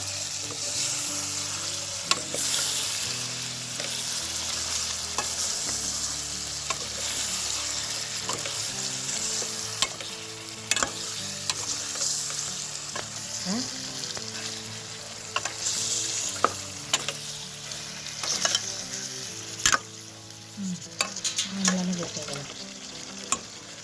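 Cubed potatoes being stirred into a sizzling chicken curry in a pan, a continuous frying hiss with irregular scraping and clinking of the spoon throughout.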